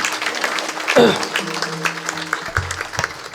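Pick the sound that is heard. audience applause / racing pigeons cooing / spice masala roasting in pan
audience applause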